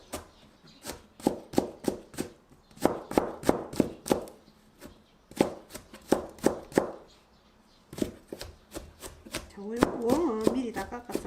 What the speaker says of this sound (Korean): 채를 썰어 줄게요